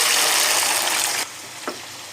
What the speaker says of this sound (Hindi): मैं इस गरम तेल में इस लहसुन को डाल